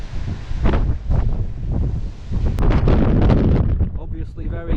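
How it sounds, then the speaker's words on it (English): Strong wind during Storm Babet flooding in Scotland, loud gusty buffeting against the microphone that continues throughout, with a person talking over it. "it's windy still here as well. You can hear it, and I can feel it."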